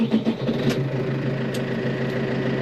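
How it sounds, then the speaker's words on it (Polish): A New Holland T4.65 tractor's diesel engine idles nearby with a steady, low, chugging rumble and slight rhythmic knock, unchanging throughout. "silnik jest już uruchomiony"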